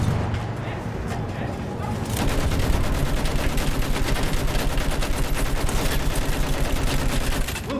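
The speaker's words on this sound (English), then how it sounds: "Use that machine gun, mow them down!" Machine-gun fire in the World War I shooter Battlefield 1, a loud continuous rapid stream of shots with heavy low booms, starting in after a couple of seconds of battle noise, with voices shouting over it.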